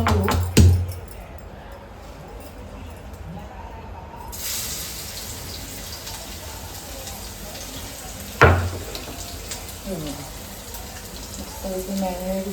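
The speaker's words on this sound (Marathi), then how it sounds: "थोडं आपण लसूण टाकू तेलामध्ये. आणि लगेच कोळंबी आपल्या फ्राय करून घेऊ." Garlic and prawns hit hot oil in a pan, setting off a loud, steady sizzle partway through that hisses on to the end, with someone talking over it.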